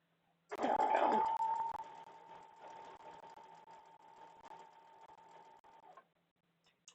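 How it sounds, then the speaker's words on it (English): A sewing machine runs in one sustained stitching burst of about five seconds, opening with a louder rattle and then settling into a steady, close mechanical whir before stopping, with no talking. "just sew them all up together"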